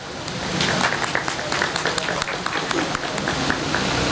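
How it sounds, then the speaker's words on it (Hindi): An audience at an oath ceremony and annual award distribution claps in sustained applause to welcome a guest, a dense crowd of hand claps filling the room without a break. "मिसेज़ मेजर मुसर्रत रोबीना कौसर साहिबा आप सबकी भरपूर तालियों में तशरीफ़ लाएंगी।"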